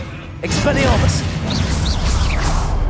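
Expelliarmus disarming spell being cast in Hogwarts Legacy, heard as a burst of rising, chirping magical whooshes that come in quick succession. A loud voice runs over the spell effects throughout.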